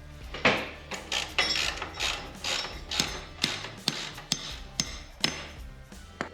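Metal winch assembly parts being bolted together, with a run of sharp clanks, ratcheting clicks and knocks at close range, irregular and alone.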